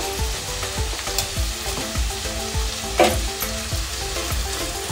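Potatoes fry loudly in a pan for a potato fry curry, giving a dense, constant sizzle with crackling pops and a rhythmic scrape of stirring throughout. The sound is close and nobody speaks.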